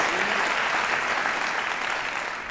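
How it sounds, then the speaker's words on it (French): An awards-ceremony audience applauds a 23-year-old honoree at an evening gala, dense, even clapping that holds steady throughout and fades slightly at the end. "Ça s'applaudit."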